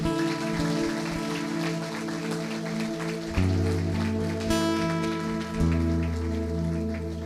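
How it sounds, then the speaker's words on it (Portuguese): Congregation in a church clapping hard: dense, steady applause from many hands, heard over sustained organ or keyboard chords that change twice. "Você pode aplaudir bem forte o Senhor aí?"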